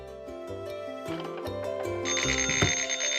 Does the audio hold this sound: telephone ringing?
yes